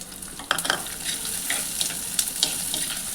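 Small onions dropped into hot oil with fried vadagam, loud close sizzling with repeated stirring scrapes and clinks of a spoon against the pan.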